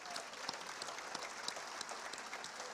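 A church congregation applauding during a sermon, a steady faint patter of many hands clapping with a few sharper claps standing out, heard at a distance.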